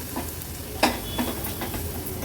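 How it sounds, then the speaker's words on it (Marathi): Turmeric and homemade Agri Koli masala sauté with ground paste in a pan, a steady soft sizzle broken by a few short stirring scrapes and taps of the spoon. "हळद आणि मसाला पण वाटण्यासोबतच छान असा परतून घ्यायचा आहे"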